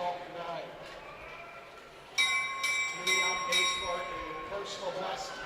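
A bell rings for the bell lap at a long track speed skating championship, several sharp metallic strikes in quick succession with ringing overtones, heard under an announcer's commentary in a large rink.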